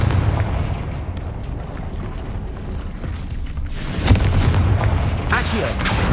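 Repeated Confringo fire spells blast in Hogwarts Legacy, producing booming explosive bursts over a rumbling game soundtrack, with a sharp loud crack near the middle and another burst near the end.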